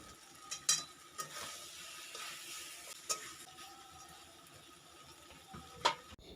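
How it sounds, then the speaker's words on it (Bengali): Drumstick stems being stirred in a pan of spices after the lid is lifted, a quiet close sequence of sharp scrapes and clinks separated by soft sizzling, with no talk. "এবার ঢাকনাটাকে তুলে আবারও একটু নাড়াচাড়া করে নেব।"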